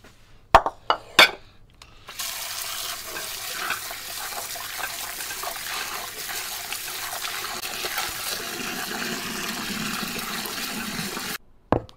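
Abalone and prawns are washed under a running tap, with a few sharp clinks of shell or glass at first, followed by a steady, close rush of flowing water until it suddenly cuts off near the end.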